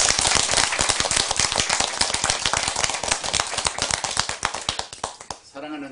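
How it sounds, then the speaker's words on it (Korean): Dense, rapid clapping from an audience at a political speech in Yeosu rolls on steadily for several seconds, then a voice begins speaking as the applause fades at the end. "박수 한 번 쳐주세요."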